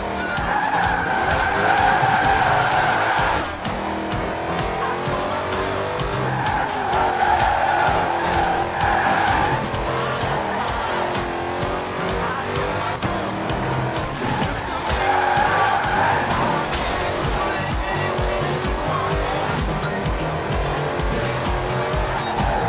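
Tires skid and squeal as a car brakes hard into a turn in the Forza Horizon 4 racing game, with repeated loud screeches rising over a steady engine roar.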